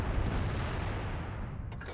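A tank cannon firing in World of Tanks, from a WZ 132 Tier VIII Chinese light tank, comes as one heavy booming blast whose rumble rolls on and decays across about two seconds. Loud and close, with no talk.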